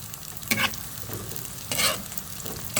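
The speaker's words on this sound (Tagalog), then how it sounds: "Nagpiprito na rin tayo ng balat o. Pascharon ang ginagawa natin dyan." Pork skin for chicharon fries in hot oil with a steady close sizzle, broken by a few louder stirring scrapes and splashes.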